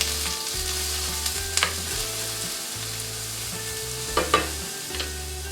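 Chopped onion sautés in a little olive oil in a pan over medium heat, giving a continuous close sizzle broken by a few sharp stirring clinks and scrapes, with no voices.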